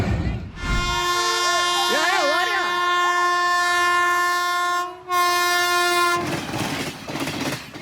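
A loud sustained train horn blares for several seconds over the rumble and clatter of a passing train that strikes a vehicle on the tracks, with a brief break before it sounds again.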